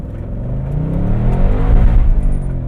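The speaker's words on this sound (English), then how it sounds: "Huge wheel spin." A Ford Mustang GT with the top down accelerates hard with its tires spinning, a loud, deep engine roar that builds steadily under the wheel spin, with no talk.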